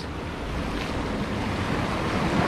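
A strong water current rushes steadily, a dense broadband roar like surf or churning flow, loud and unbroken for the whole stretch with some wind buffeting the microphone.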